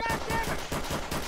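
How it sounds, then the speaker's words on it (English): Rapid bursts of automatic gunfire in the video game Garry's Mod crackle in a quick rhythm, loud and close, with a brief voice underneath. "I hear gunshots"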